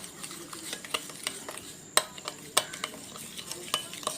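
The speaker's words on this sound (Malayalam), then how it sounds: "മിക്സ് ചെയ്ത് കൊടുക്കാം നന്നായിട്ട് കേട്ടോ" Stirring in a pan: a spoon scrapes and taps against metal in an irregular rhythm, a few sharper clinks over a faint sizzle.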